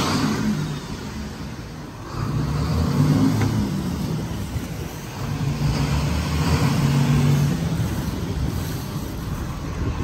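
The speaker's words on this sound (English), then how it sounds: "we're gonna actually shift it and throttle up and verify that everything is working" Engine of a Riviera Sportsfish boat throttled up after a warm-up, a steady broadband rumble with low drone that swells, eases briefly around two seconds, then builds again amid wind and water noise, no talking.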